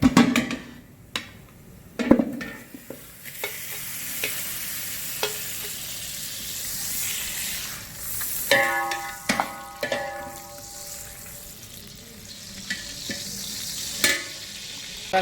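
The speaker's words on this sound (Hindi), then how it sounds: "घी मेल्ट हो चुका है" Two kilograms of ghee melt and sizzle in a large cooking pot for five kilograms of chicken, giving a soft steady frying hiss broken by occasional metallic clanks and scrapes of a stirring utensil.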